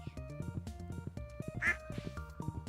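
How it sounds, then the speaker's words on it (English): A duck in the Stardew Valley video game gives a brief, faint quack partway through, mostly buried under bouncy, rhythmic background music, with no voices. "I love the duck noises."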